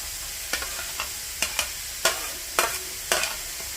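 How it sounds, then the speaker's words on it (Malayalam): Cabbage and carrot being stir-fried for fried rice, with about eight sharp spatula scrapes and clanks against the pan in an uneven rhythm over a steady low sizzle, close and alone. "ക്യാബേജിനെ നല്ലോണം എല്ലാം കൂടി മിക്സ് ചെയ്ത് നല്ലോണം വാട്ടിയെടുക്കണം."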